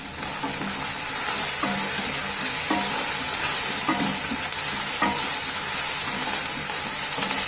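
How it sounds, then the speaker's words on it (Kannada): Boiled peas tumble into a pan of fried onions and get stirred, a loud continuous sizzle broken by regular scraping strokes of a spoon roughly every second. "ಇವಾಗ ಇದಕ್ಕೆ ನಾವು ಬೇಯಿಸ್ಕೊಂಡಿರೋಂಥ ಬಟಾಣಿನ ಸೇರಿಸ್ಕೊಳ್ಳೋಣ."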